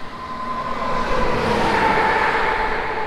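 A 2011 Ford F-150 truck engine runs after refuelling, a steady close low rumble with a faint tonal whine, holding constant throughout with no voices.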